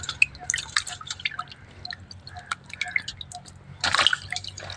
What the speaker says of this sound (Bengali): তো তার জন্য মাছগুলো আমি ধুয়ে নিচ্ছি